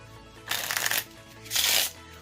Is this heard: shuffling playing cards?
yes